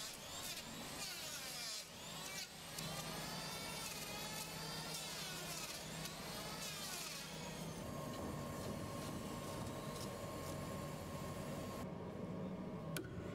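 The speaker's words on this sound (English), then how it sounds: "shapes up a forward floor with a power plane" A power plane whines and rasps as it shapes a new wooden floor piece for a boat's keel during a restoration, with repeated passes over several seconds, fairly close and alone, then a brief steady hum.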